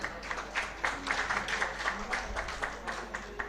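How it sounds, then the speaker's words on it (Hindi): Audience applause at a police bravery awards ceremony, a sustained round of clapping with a low hum beneath, moderately loud and steady throughout. "जोरदार तालियां एक बार बजाई जाएं"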